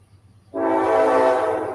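A passing freight or commuter train sounds its loud, sustained horn, starting abruptly and holding steady nearby over a low rumble, with no talk.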